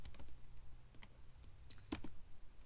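Keys tapped on a computer keyboard while a terminal command is entered on an Arch Linux machine, a short run of soft, close clicks with one sharper keystroke near the end, alone without talk.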